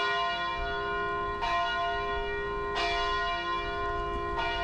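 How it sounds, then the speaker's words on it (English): Mariners Church's Brotherhood bell in Detroit, pulled by rope, tolls three slow, evenly spaced strikes, each deep ringing note hanging and humming into the next. "I Grabbed the bell pull rope and tolled the Brotherhood bell 29 times."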